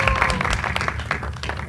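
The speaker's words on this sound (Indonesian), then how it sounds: "Boleh berikan tepuk tangan dong teman-teman media." Media members applaud at a horror film trailer launch press conference, a steady wash of clapping from a room full of people lasting under two seconds, with some voices mixed in.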